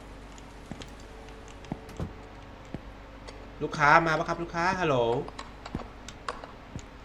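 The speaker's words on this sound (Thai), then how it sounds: "นี่เสียงคีย์บอร์ดอ่ะ" Scattered clicks and taps of computer keyboard keys in a video game, sparse and close, with someone talking briefly over them in the middle.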